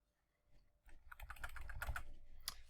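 Computer keyboard keys pressed in a quick run of soft, close clicks and taps, with no voice.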